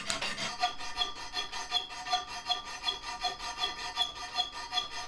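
Half-round notches being cut into a knife handle with a file or rasp, giving a steady, rhythmic scraping of about two strokes per second, close and clear with no voices.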